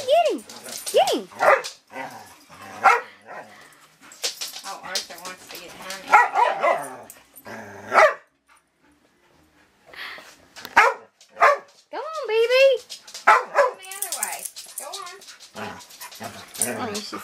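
A dog barks and yips repeatedly in excited bursts, close by, mixed with whimpers, while a person talks and calls out between the barks.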